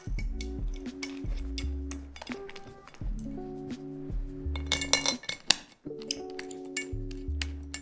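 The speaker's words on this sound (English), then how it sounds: "we're going to take the bolt, we're going to put it through the washer" Metal bolts and washers clink lightly and intermittently as a KneeRover Economy knee scooter is put together, small scattered clinks close by over a steady tonal background.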